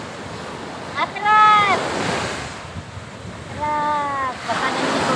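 Strong water waves surge and rush as a broad, steady roar with no breaks, while people shout over it twice, close and loud.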